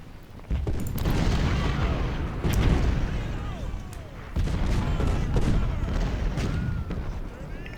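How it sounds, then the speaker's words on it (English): Cannons fire repeatedly in the Civil War strategy game Ultimate General: Civil War, heavy booming volleys rolling into one another with sustained rumble and crackle, loud and dense across the whole stretch. "It's just cannons going off"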